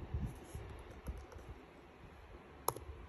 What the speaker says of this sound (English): If I could type correctly.